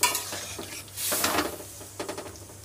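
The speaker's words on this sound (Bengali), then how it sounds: "এবার ডালটা দিয়ে ভালো করে শাক আর ডাল একসঙ্গে দিয়ে নেড়ে নিলাম।" Red lentils and bottle gourd greens are stirred together in a pan over a village cooking fire, with a spoon scraping and clinking against the metal in uneven bursts over a faint sizzle.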